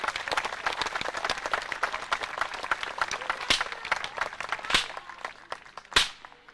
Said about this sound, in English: If you like it, you can clap your hands.